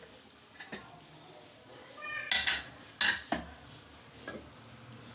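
Metal pots and utensils clattering as a pressure cooker is opened on a kitchen stove, a few sharp close clanks and knocks over a quiet background.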